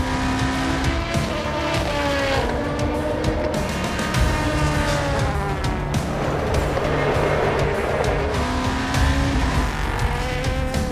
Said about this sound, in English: You may now start your engines.